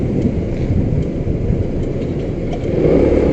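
Steady low roar of road traffic in a busy street lined with restaurants, cars and motorcycles passing continuously, swelling louder near the end, with no voices.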